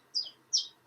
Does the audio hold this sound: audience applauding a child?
no